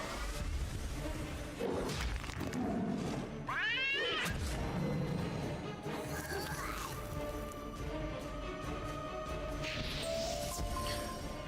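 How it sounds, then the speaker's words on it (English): A cat pet in the video game Wizard101 lets out a couple of short meows amid whooshing spell effects and layered game music, with a continuous busy mix and sweeping bursts throughout. "Go, cat, go."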